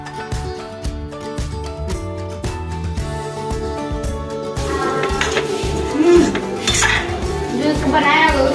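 Metal puja utensils clink and clatter as they are set down and stacked, with sharp repeated knocks over a steady tonal background that grows busier in the second half.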